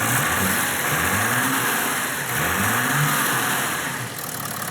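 A twin-turbo diesel BMW engine, bought as a mechanic special, runs steadily at close range with a low rumbling drone and slight swells in revs, without anyone talking.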